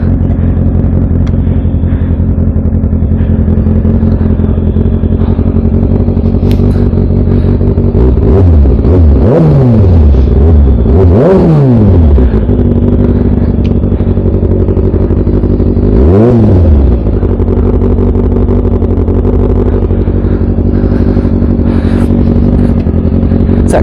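A Yamaha MT-09 motorcycle fitted with an Akrapovic full exhaust rides by close and loud, holding a steady throaty drone broken by several sharp revs that rise and fall as it accelerates and shifts.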